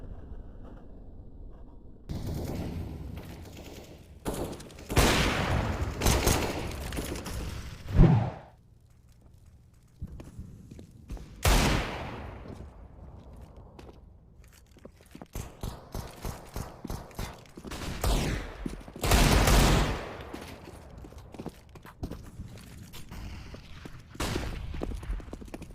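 Desert Eagle shots ring out in a Counter-Strike match, several loud sharp cracks spaced irregularly across the round, mixed with other in-game gunfire and faint footsteps, with no voices.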